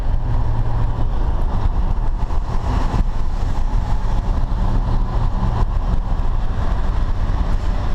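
A 1962 Ford Thunderbird with a slightly louder-than-stock exhaust drives along, its engine giving a steady, loud, continuous low rumble and road drone close up, with no one talking.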